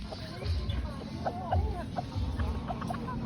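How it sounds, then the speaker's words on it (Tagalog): Small bantam-like chickens cluck repeatedly in short, chirpy bursts outdoors, close by, over a low rumbling background, during a family outing in San Miguel, Bulacan. "Manok na ibon daw."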